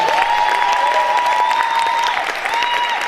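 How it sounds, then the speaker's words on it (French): An audience at an eloquence contest final in Bordeaux claps for a speaker: sustained, loud, dense applause filling the room, with a steady tone and faint voices beneath. "Elle a été extraordinaire, vous pouvez l'applaudir encore."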